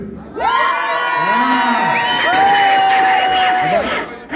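A concert crowd shouts and cheers together in long, rising whoops and yells, loud and close, sustained for several seconds before tailing off.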